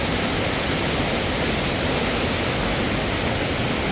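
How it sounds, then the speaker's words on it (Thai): A forest waterfall roars as a steady, broad, unbroken wash of falling water, constant and fairly loud with no other sounds standing out. "ได้ยินเสียงน้ำตกแห้งขึ้น"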